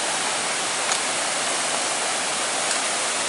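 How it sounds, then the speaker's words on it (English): A small waterfall on Eagle Creek Trail near a cave pours in a steady, full-band rush of falling water, close and constant with no voices. "Little waterfall down here, and like a cave."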